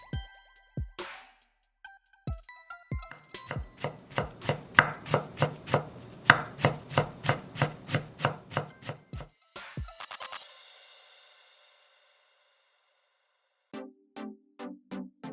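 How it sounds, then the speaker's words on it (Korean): Small pieces of eggplant flesh chopped on a board with a knife, a fast rhythmic run of crisp close knocks, then a scraping sweep and a few more taps, with no talk. "나온 가지 속은 작게 썰어서 담고"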